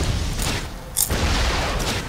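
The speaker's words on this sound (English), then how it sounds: "I like his explosions." Explosions in the side-scrolling action video game Broforce, a continuous rumbling barrage of booms and crackling blasts with one sharp, bright burst near the middle, loud and without voices over it.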